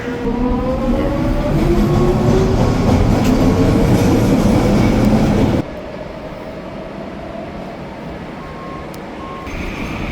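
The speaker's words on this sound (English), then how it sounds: "Gonna get the sound of the original Mark 1 before it leaves out of here" A Mark 1 commuter train leaving a station rumbles loudly nearby with a steady mechanical roar and rising whine, then drops abruptly to a quieter, continuing rumble as it pulls away.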